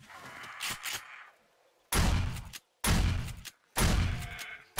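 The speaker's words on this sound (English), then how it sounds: "I'm just going to switch to shotgun" Shotgun blasts in 7 Days to Die during a day 21 zombie horde: three loud, sharp booming shots about a second apart, following softer thuds.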